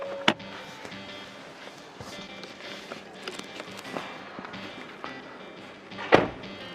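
The frameless power window of a new Hyundai Grandeur lowers with a faint motor whir, bracketed by a couple of sharp clicks or thumps at the start and end, quiet and close.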